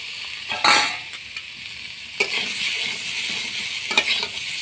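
Eggs sizzling in a hot pan alongside fried palm kernels for a coconut-milk egg curry, a steady bright crackle with a few sharp scraping stirs and louder bursts, close and without talk.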